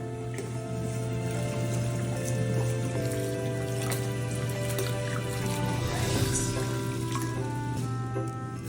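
Tap water runs steadily into a sink while hands are washed in a home kitchen, a continuous close splashing stream with small shifts as the hands move under it, over a low hum.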